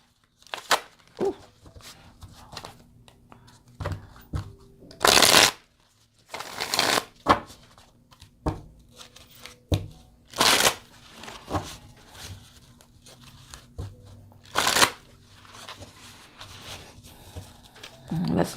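Tarot cards are shuffled and handled in bursts of riffling and flicking, with several loud, brief shuffles between quieter card taps and rustles over a low steady hum.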